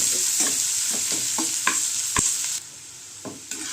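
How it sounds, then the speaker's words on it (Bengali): Onion and garlic sizzle steadily in hot oil for a Bengali egg dish, with a broad hiss broken by repeated scraping stir strokes and one sharp clatter of the spoon against the pan, close and fairly loud. "এটা একটু লাল লাল করে ভেজে নেব।"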